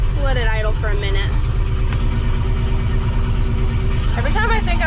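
An old Ford F-100 pickup truck engine idles on a farm, a steady low rumble held throughout, with someone talking over it at the start and end.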